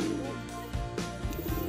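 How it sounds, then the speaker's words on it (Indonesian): Pigeons coo in low, throaty, rolling calls that repeat several times in quick succession, close by at a bird enclosure in an eco-park, with no voices over them. "Nah ini burung merpatinya teman-teman."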